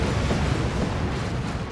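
Chimera tank exploding in the video game Dawn of War 2, a dense, loud rumbling blast that fills the whole moment and carries no speech.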